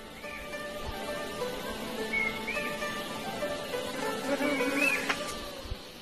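Chinese honeybees swarm around an open hive with a close, continuous droning buzz, wavering in pitch as individual bees fly past the microphone.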